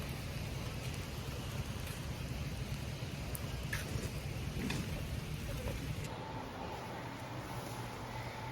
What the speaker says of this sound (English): In the rain.